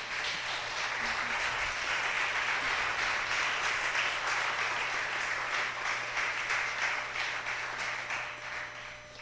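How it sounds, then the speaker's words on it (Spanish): A church congregation applauds steadily, dense continuous clapping filling the room at full strength throughout, tapering only slightly at the close, with no voices over it. "Bríndale un fuerte aplauso, por favor"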